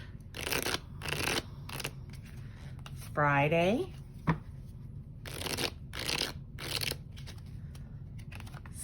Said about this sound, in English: Another little shuffle.